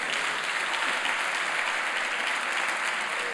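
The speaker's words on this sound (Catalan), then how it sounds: "Un aplaudiment, per favor, pel jurat." Steady, dense applause from an audience at a local communication awards ceremony, honoring the jury, sustained at even loudness throughout with no voices over it.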